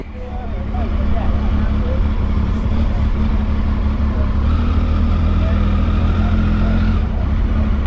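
Triumph Tiger triple motorcycle engine running steadily up close, a continuous low rumble that holds throughout with wind noise, while a voice talks over it at times.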